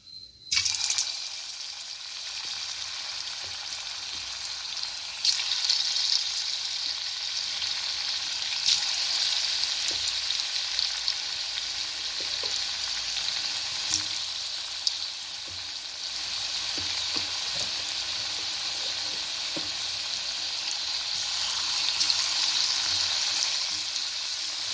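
Potato kebabs fry in hot oil in a kadai, a loud, steady sizzle that stays close and even throughout, with occasional faint stirring clinks.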